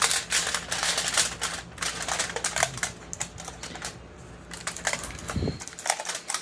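Aluminium foil being torn and crinkled while lining the bottom of a Ninja Foodi pot rack, giving dense, close crackling and rustling throughout with a few sharper rips.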